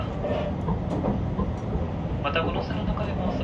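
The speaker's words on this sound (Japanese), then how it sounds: "列車は通常よりも速度を落として運転をしてまいります" A JR Gono Line train runs slowly along the Sea of Japan coast between Akita and Aomori, with a steady, loud rolling rumble throughout and an onboard announcement voice speaking over it.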